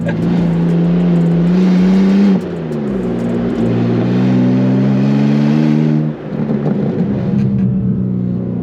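A BMW M2 engine drones loudly from inside the cabin, pitch rising and falling through gear changes as it revs and pulls steadily.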